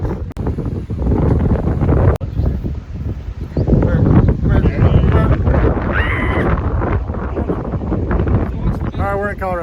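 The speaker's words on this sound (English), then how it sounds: "60-mile-an-hour gusts." Loud roadside wind gusts of around 60 mph in Colorado roar and buffet the microphone throughout, while people talk over the noise.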